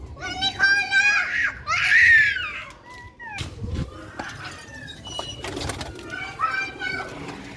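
Sialkoti pigeons kept for sale make bird calls close by, mixed with children's voices and people talking throughout.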